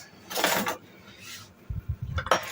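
Sugar, 350 grams, poured into a container on a kitchen scale, heard as two soft grainy rushes followed by light clinks and taps of the container.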